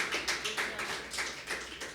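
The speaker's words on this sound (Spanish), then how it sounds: "Un aplauso al Señor, hermano." Rhythmic congregational clapping in a church service, a quick steady beat of many hands, fairly close and full, with the sound of a gathered crowd underneath.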